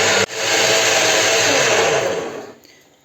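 Electric mixer whipping egg whites with lemon juice for swallow's-nest cookies, a steady loud whirring drone that starts abruptly after a click, holds for about two seconds, then fades and stops.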